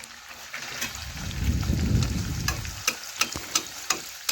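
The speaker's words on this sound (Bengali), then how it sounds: "আমি আবারও একটা একই রকমভাবে ছেড়ে দিচ্ছি তেলের মধ্যে" Pea-stuffed kachori slides into hot oil and fries with a bubbling low rumble that swells, then settles into steady sizzle punctuated by several sharp clicks and taps near the end; no one talks.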